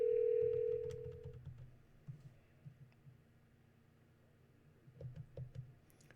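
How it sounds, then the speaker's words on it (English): A desk phone starting a call: a steady tone sounds briefly at the start, then fades into a quiet low hum with a few faint clicks, close by and with no talking. "I'm just going to go ahead and dial a call, show you how that works."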